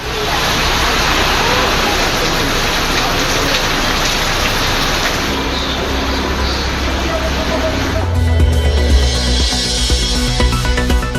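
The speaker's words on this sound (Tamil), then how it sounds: "நாகையை குளிர்வித்த கோடை மழை." Summer rain falling steadily in Nagapattinam, a dense continuous patter that stays loud throughout, with a deeper rumbling wash toward the end.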